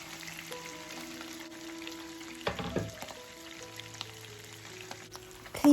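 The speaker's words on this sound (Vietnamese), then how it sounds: "Mình bắt đầu cho cá vào chiên." Salmon fillets fry in a hot pan for a lime-butter-garlic-chili dish, a steady close sizzle running throughout with a brief louder burst partway and a sharp clatter at the very end.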